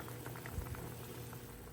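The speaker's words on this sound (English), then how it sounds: "The cabbage is starting to simmer." Soft, continuous bubbling of a pot of cabbage gently simmering, with faint pops and gurgles at low volume and no voices.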